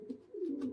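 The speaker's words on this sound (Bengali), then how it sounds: "পায়রার ডাকটা দেখুন বন্ধুরা, একদম গরম ডাকের পায়রা রয়েছে" A Giribaz pigeon gives one short, throaty coo close by, a soft rolling call lasting under a second with no other sounds around it.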